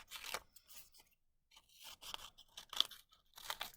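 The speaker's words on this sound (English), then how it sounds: "I'm going to cut it out along the lines." Scissors cutting a drawn diamond shape out of paper for a DIY dinosaur hat, close crisp snips and rustling paper in several short bursts with brief pauses, no talk.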